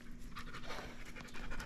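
Dogs panting steadily in a close, rhythmic series of quick breaths, heard up close and continuing throughout without any talking.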